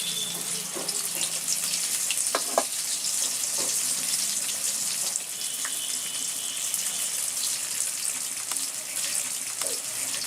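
Koi fish cook in mustard oil and spices in a Bangladeshi village kitchen, giving off a steady, close, bright hissing sizzle with occasional small pops and crackles.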